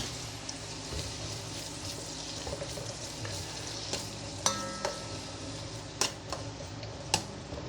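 Onions frying in a pan for kinamatisang manok, a soft steady sizzle with intermittent sharp clicks and taps of a utensil against the pan.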